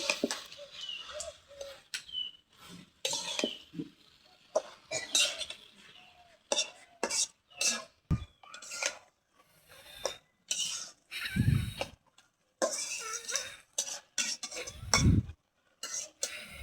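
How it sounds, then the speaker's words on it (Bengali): Malabar spinach and dried fish sautéed in a pan, with irregular bursts of ladle scraping and clinking against metal, separated by short pauses, close and fairly loud, no speech. "আর একটু কষানো হোক"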